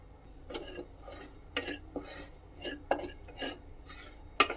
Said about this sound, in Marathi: खोबरं लाल होईपर्यंत छान असं भाजून घ्यायचं आहे